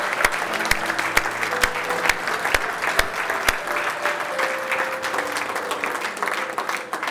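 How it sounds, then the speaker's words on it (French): A church congregation claps together during a Sunday morning service, steady applause filling the room with sharp regular beats near the start, while organ or keyboard tones hold underneath. "Est-ce qu'on peut applaudir le Seigneur ce matin?"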